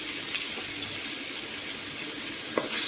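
Crushed garlic cloves fry in hot oil with fennel seeds, giving a steady, fairly quiet sizzle and crackle with a few small pops throughout.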